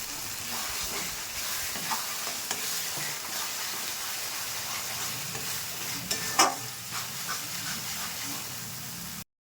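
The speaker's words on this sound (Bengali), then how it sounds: "মশলাটা খানিকক্ষণ কষিয়ে নেব।" Masala with red chili powder is stirred and fried in a pan for a pea, potato and soybean curry, a soft steady sizzle with occasional scraping strokes that stops abruptly at the end.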